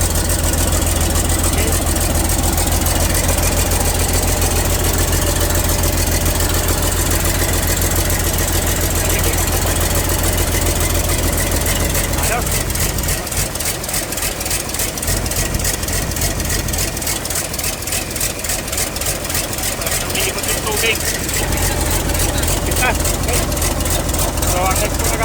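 A Caterpillar CAT 320 excavator's diesel engine idles after a radiator overhaul, a loud, steady, throbbing rumble that runs unbroken throughout, its texture shifting slightly partway through.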